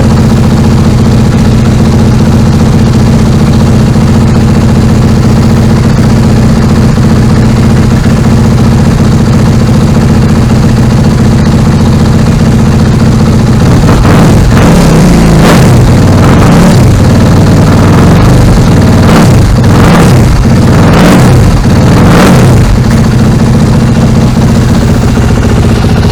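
A 2015 Suzuki RMZ250 dirt bike engine idles loud and close as it warms up, with a steady drone that turns rougher and picks up a few sharp pulses partway through.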